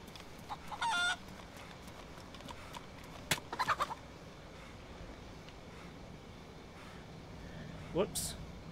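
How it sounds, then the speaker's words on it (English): A wild chicken clucks in the DayZ survival game, short bursts of clucking heard faintly at a distance amid quiet outdoor ambience, with a brief sharp call near the end. "I do see a wild chicken in front of us."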